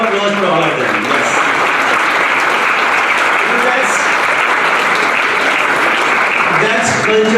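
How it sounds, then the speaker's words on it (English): A crowd applauds loudly and steadily for several seconds at the Hindu Media Conference during the World Hindu Congress 2018, with dense clapping and voices mixed in. "So round of applause for all of them."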